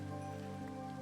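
Steady rain falls in a video game while a character sits fishing, a soft, even patter of drops filling the brief moment without pause or voice.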